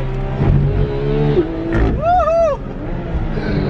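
A sports car engine, among Ferrari, Lamborghini and Maserati cars at a gathering in Podlasie, revs loudly nearby, its pitch sweeping up and down in a sharp blip, with voices around it.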